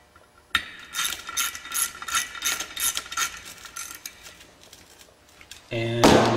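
Ratchet wrench snugging the bolts on an aluminum clutch cover of a Polaris Sportsman ATV, a long run of rapid clicking pawl strokes in bursts, close and fairly loud, ending with a brief clunk of the tool.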